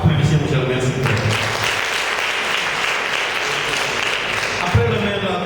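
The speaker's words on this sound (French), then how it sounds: "Donc, applaudissez M. le maire, s'il vous plaît." An audience applauds the mayor at an excellence day ceremony in Sokone, with loud, steady clapping throughout and a low, tonal voice or crowd murmur at the start and again near the end.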